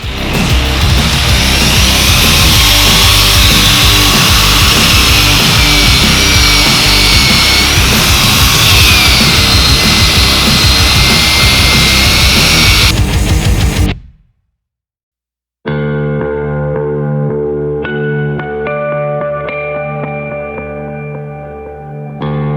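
An 80-grit abrasive wheel grinds rust off a steel Airstream trailer frame, a loud continuous rasping roar that cuts out abruptly, leaving a brief silence before a quieter tonal whir resumes.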